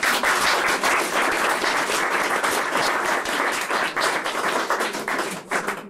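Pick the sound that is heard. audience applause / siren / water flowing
audience applause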